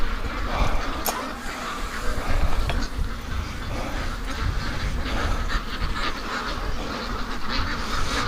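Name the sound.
Muscovy duck quacking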